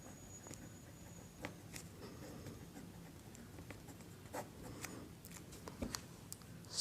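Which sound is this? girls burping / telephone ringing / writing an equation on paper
writing an equation on paper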